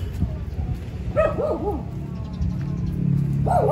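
A dog in a residential neighbourhood barks a short burst of yelping barks at middle distance over low background noise, with a quieter yip near the end.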